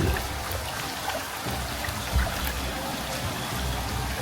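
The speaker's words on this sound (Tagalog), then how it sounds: "ulan na pala ito" Rain falling outdoors as a dense, steady hiss of drops with faint pattering, continuous and fairly close, with no voices over it.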